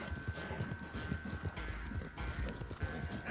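Steady rhythmic hoofbeats of a horse galloping in Red Dead Redemption 2, fairly close and moderately quiet, with no talk.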